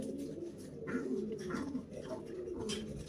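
Pigeons coo softly in a pigeon loft, several low repeated rolling calls overlapping at close range with no talk.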